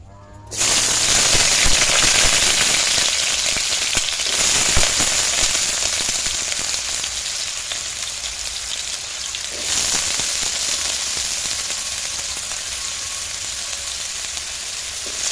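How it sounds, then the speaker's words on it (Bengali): Potatoes frying in hot mustard oil in a heated kadai, a loud, steady crackling sizzle that starts abruptly and continues without pause, with no talk. "এরপর দিয়ে দেব সরষের তেল। আলুটা ভেজে নেব।"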